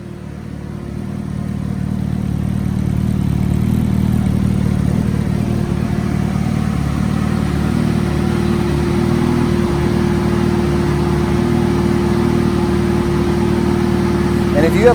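Suzuki Hayabusa motorcycle engine running on a dyno, a loud, steady mechanical drone with a constant hum that swells slightly and holds level for the whole stretch, with no talking.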